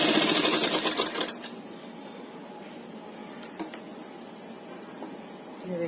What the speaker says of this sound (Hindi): सेंटर में सिलाई लगाएंगे।